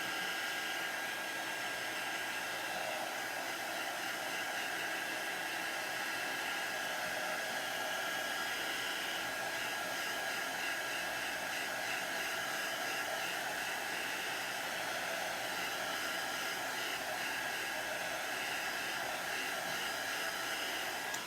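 Hair dryer blowing steadily to dry chalk paste on Halloween decor, a continuous even whoosh held at constant strength close by for about twenty seconds, with no talking.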